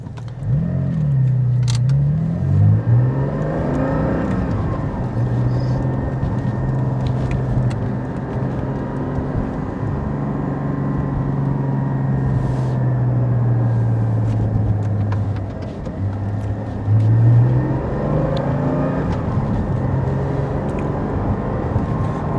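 A Porsche drives a lap of the tight Pau street circuit, its engine droning steadily from inside the car as the pitch rises and falls through acceleration and braking, with no speech.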